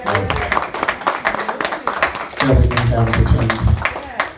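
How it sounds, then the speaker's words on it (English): Hand clapping for Father at a youth church gathering, a steady run of claps through the first half that gives way to lower, busier crowd noise, with speech over it. "Let's give Father a hand clap"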